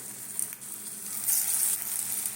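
Bora fritters crackle and hiss steadily as they fry in hot refined oil, a continuous close sizzle with no voices.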